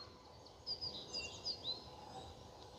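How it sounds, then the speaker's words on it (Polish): Faint, scattered morning birdsong with a few high chirps and short trills over a quiet outdoor background. "Wstaje słoneczko i krzyczą ptaki"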